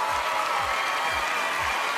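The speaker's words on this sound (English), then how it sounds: "keep the applause going" Sustained audience applause at the 2011 Australia's Got Talent live grand final, a broad steady wash of clapping from a large crowd with a periodic low thump underneath, no talking.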